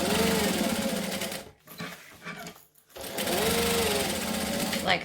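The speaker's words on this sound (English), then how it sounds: "So I'm stitching straight." A sewing machine stitches a straight seam on a handmade wallet, running in loud continuous bursts with a short pause partway through, while a voice talks over it.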